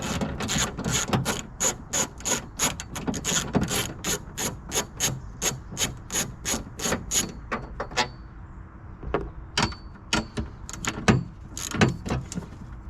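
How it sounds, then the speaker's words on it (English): Ratchet with a 1/2-inch socket loosening a bolt on a 2014–2019 Chevrolet Silverado, a fast steady series of sharp clicking strokes, close and loud, slowing to a few scattered clicks near the end. "Using a 1/2-inch socket for that."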